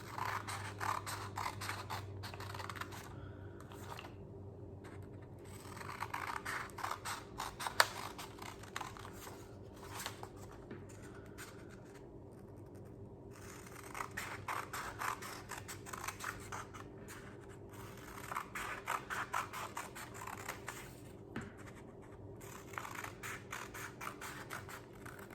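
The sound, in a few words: scissors cutting paper for paper weaving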